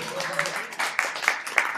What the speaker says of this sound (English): y'all clap it up for yourselves